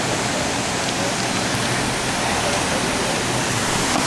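Steady hiss of cascading water from a park fountain at EPCOT's Land Pavilion, loud and unbroken, with faint background voices mixed in.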